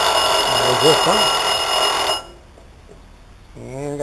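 Brand new timers on a Vulcan three-deck pizza oven ring with a loud, steady electronic bell for about two seconds, then cut off abruptly; a voice is heard over the ringing and again briefly at the end.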